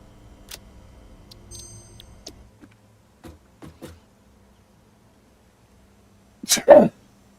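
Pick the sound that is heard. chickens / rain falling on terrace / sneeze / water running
sneeze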